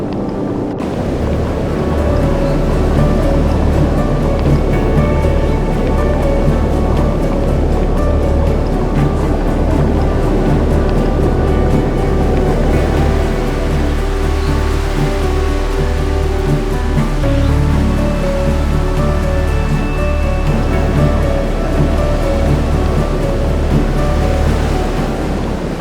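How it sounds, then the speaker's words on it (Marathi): Heavy monsoon rain and swollen, rushing streams in the Andharban forest of Maharashtra make a loud, continuous, dense roar of water that barely changes for nearly half a minute, with wind buffeting the microphone. "मुसळधार पावसामुळे ओढ्यांतील पाण्याचा वेग प्रचंड वाढला होता"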